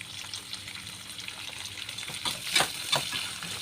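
Medium-cut, salted onions fry in a pan for a tomato curry, a soft steady sizzle with a few louder stirring bursts near the end, close and without talk.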